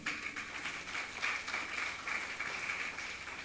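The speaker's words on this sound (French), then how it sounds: "Est-ce qu'on peut acclamer pour la gloire de Dieu?" A church congregation applauds for the glory of God after a sung worship set, a steady crowd of claps holding at even strength for several seconds with no talking.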